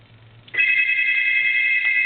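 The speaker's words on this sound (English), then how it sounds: "I'm going to just go ahead and ignore that call because they'll get it in the office." A Radio Shack two-line desk telephone starts ringing after a quiet moment, its electronic ring tone sounding loud and steady for the rest of the moment.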